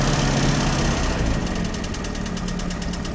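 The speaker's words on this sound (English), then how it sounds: "And we've got the standard idling as well now." A 1956 Standard 8 car's engine idles steadily at close range, a continuous low rumble with a regular ticking pulse, the engine running alone with no voices.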